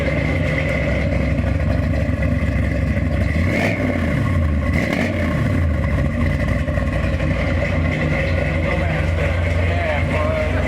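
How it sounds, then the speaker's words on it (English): A V8 car engine, likely a big block, revs up twice in quick succession, rising and falling sharply over a loud, rumbling idle that runs close and continuous throughout, with people talking over it. "Rev it up a little bit."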